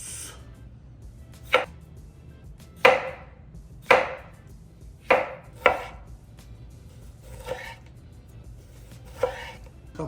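A knife slices tomatoes on a cutting board for a cold sandwich, with seven or eight crisp individual cuts landing at uneven intervals, each a short close thud, and no one speaking.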